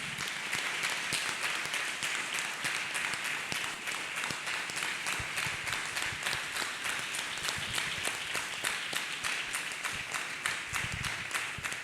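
A church congregation claps hands together for Jesus during a deliverance testimony service, a steady dense wash of many palms beating fast and continuous, loud and close, with no talking over it.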